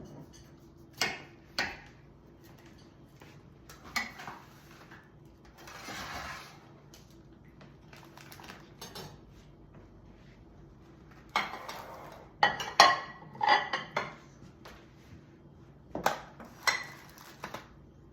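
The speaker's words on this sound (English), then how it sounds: "So now cut some slices up of avocado." A knife slices avocado on a cutting board with soft, scattered taps and knocks of the blade against the board, coming in small clusters with quiet stretches between.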